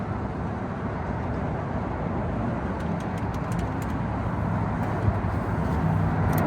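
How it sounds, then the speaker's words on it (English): Cars pass along an I-10 feeder road in Houston, making a continuous broadband roar of road traffic that builds slightly toward the end. A few faint chirps can be picked out above it. "Don't mind the cars. We're out here right on the feeder road,"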